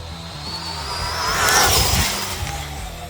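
A Traxxas Bandit VXL RC car running on a 3S battery zips past, its high-pitched electric motor whine swelling loudly to a peak mid-pass and then fading as it moves away.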